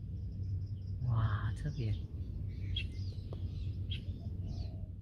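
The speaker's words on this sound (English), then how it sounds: "There are just the sounds of so many birds here. I don't even see the birds, but I know they're all around me because I can hear the noises that they make." Birds call and chirp all around a kayak drifting on the water in a national park in Tainan, scattered faint tweets over a steady low background murmur, with a person briefly speaking.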